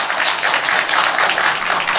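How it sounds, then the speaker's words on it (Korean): A church congregation at a Sunday service applauds in a steady, dense burst of clapping that fills the room, close and continuous without talk. "자, 일어나서 우리 박수 한번 쳐주세요"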